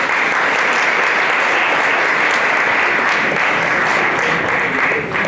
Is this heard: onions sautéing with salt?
no